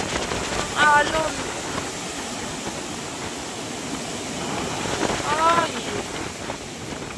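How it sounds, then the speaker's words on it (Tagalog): Strong sea waves roll and surge near a beachfront resort, a continuous loud wash with wind buffeting the microphone, while a person briefly exclaims over it. "Ang alon."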